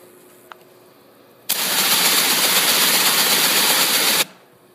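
A Driploc Stinger rotary cleaning head spins up, a loud, steady, close hissing whoosh that starts abruptly, holds for under three seconds and then cuts off.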